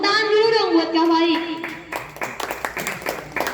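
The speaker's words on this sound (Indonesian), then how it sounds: "Oke ya, tepuk tangan dulu dong buat KFAI." Audience applause for KFAI at an evening literary exhibition, a burst of clapping from a small crowd that starts right after a voice and carries on as scattered claps.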